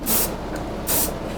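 A brand new, fully pressurized can of spray paint is used on a spalted walnut sign, giving two short, close, loud hissing bursts separated by a brief pause.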